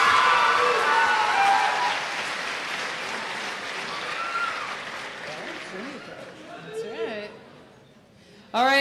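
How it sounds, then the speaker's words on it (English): Audience applause at a 2009 high school homecoming coronation, loud clapping at the start that fades into scattered claps and murmuring, with a voice speaking over it near the end. "let's have another big round of applause and congratulations for our underclassmen representatives"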